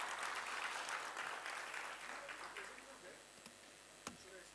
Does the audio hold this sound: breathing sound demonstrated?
no